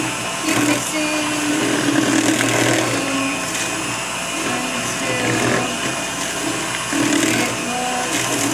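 An electric mixer whirs continuously through batter being creamed, a loud, steady high-pitched motor hum with slight changes in load as the beaters move through the bowl.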